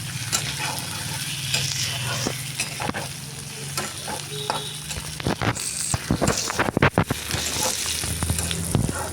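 Tomatoes being stirred into onions in a hot frying pan: a steady close sizzle with scraping spatula strokes and a flurry of sharper clacks and scrapes near the end.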